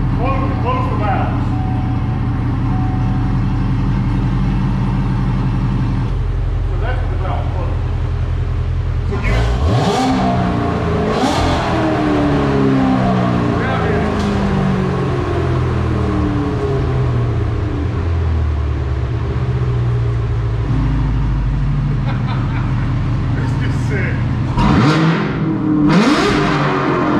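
A Corvette Z06 with a Corsa NPP exhaust, valve closed, idles with a deep burble, then revs hard several times in rising and falling sweeps, loud and close.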